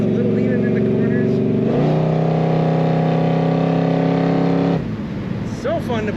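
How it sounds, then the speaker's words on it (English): A 1972 Chevrolet Chevelle Malibu convertible on the road gives a loud, steady droning exhaust note that climbs in pitch under throttle, holds, then drops away as the driver lifts off, with a voice talking throughout. "the exhaust note that comes out of this car"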